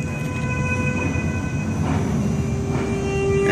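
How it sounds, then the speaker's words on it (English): A train rolls steadily into a station with a continuous loud rumble and faint high squeals from the wheels and brakes, no voices. "hopefully we can get a read on audio performance as this train comes into the station"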